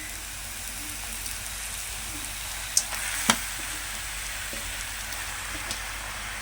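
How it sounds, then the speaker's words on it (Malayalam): Washed beef fries in a pan as it is mixed, a steady bright sizzle like light rain, with a couple of sharp utensil clicks partway through. "കഴുകി വെച്ച ബീഫ് ഇട്ട് മിക്സ് ചെയ്യും"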